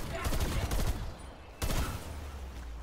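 Rapid bursts of gunfire aimed at an armored zombie in Black Ops Cold War Zombies, two loud clusters of shots separated by a short lull, with game noise underneath.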